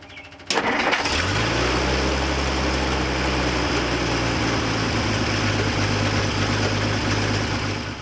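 The engine of an old 1957 Dodge with some fouled spark plugs cranks and catches, then settles into a steady, loud rumbling idle that continues throughout.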